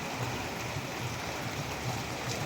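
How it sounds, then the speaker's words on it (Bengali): Steady rain falling outside during a monsoon downpour in Assam, a constant faint wash of patter heard from indoors with no voices. "এখনো বৃষ্টি হচ্ছে।"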